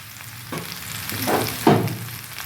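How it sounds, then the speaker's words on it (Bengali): Sugar is stirred into raw mango frying in a pan, making a soft continuous sizzle broken by a few scraping spoon strokes, one louder sweep near the end. "চিনিটা দিয়ে আরও একটু ভালো করে এভাবে নাড়িয়ে নেব"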